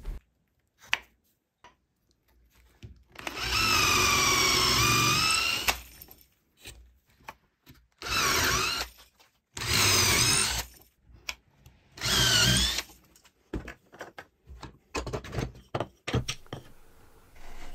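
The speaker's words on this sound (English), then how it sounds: "an 8mm bit is a perfect fit in this old cotton reel, making it quick and easy work to drill" A power drill with an 8mm bit drilling dowel holes in walnut whirs in several short bursts, one long run followed by three briefer ones, with quiet gaps and small handling clicks between.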